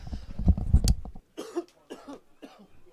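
A sports commentator at a baseball game coughs several times in a quick, loud burst close to the microphone, followed by a few quieter throat-clearing coughs after a brief pause.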